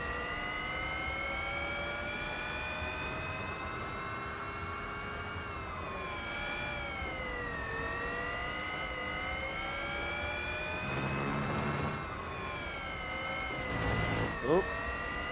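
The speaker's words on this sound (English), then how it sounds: "Bit of yo-yo noise from the electric engine." A high, tonal electric motor whine from a Formula E race car in the Real Racing 3 video game rises and falls in pitch, with a brief rough burst of noise late on.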